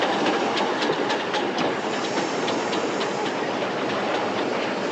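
A running steam locomotive from a 1956 film makes a loud, steady rush of clattering wheels and hissing steam, with rhythmic clicks throughout and no voices.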